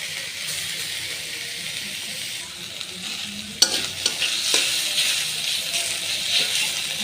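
Garlic paste and ginger paste fry in oil in a pan while cooking bhuna khichuri, a steady hiss and sizzle with a few sharp clicks and scrapes of stirring partway through.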